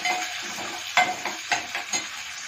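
Chillies, carrot, potato, cumin and onion fry in a pan with a close, steady sizzle, while a spoon stirs and scrapes in a regular rhythm of about five distinct strokes.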